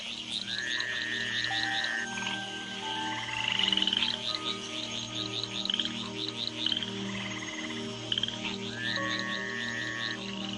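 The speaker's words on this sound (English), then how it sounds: "the tree frogs gather for bouts of communal coupling" Tree frogs call in a dense chorus, rapid trilling and piping notes overlapping against a steady low pulsing drone, with no voices.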